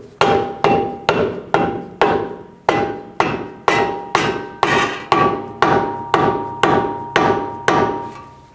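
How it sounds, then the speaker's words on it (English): A hammer taps a lower control arm ball joint into the steering knuckle of a 2010-16 Buick LaCrosse: about sixteen sharp, ringing metallic blows struck at a steady, even pace, close and loud with no talking. "Just give it a little tap. Not too hard."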